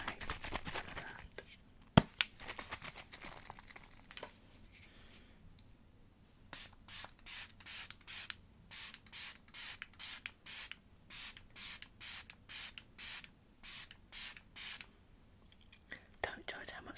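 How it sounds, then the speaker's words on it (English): A 100 ml bottle of makeup setting spray mists in a rapid series of short, even pumps, about a dozen in a row, up close, after some quiet whispering. "This is 100 ml of setting spray. So let's apply some of that."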